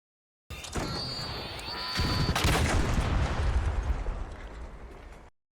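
A Bastion robot blows up in the game Arc Raiders: a sudden loud explosive blast with crackling bursts and rumbling debris that rolls on for a few seconds, then cuts off.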